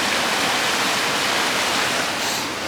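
Rushing white water on a Colorado river roars as a steady, loud, broadband wash that barely changes from start to end.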